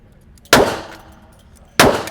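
Two sharp revolver shots about 1.3 seconds apart, each ringing a steel target with a bright metallic clang that decays quickly, no talking.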